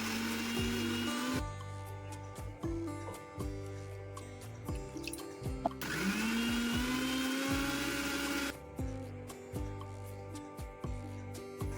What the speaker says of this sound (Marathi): आता मी मिक्सरमध्ये मसाला बारीक वाटून घेते.